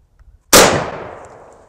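A single sharp, loud rifle shot firing a Blue Ammo .308 cartridge outdoors on a hot day, with a sudden crack followed by a long ringing decay, after a short quiet lead-in.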